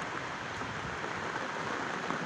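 Rain falls steadily in a hill garden of bean plants, a soft, even patter with no talk.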